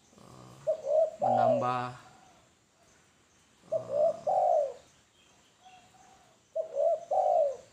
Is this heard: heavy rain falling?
no